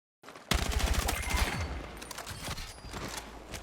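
Rapid automatic gunfire in the shooter game Battlefield 6, a dense close burst of shots that continues with more scattered firing and explosive game noise.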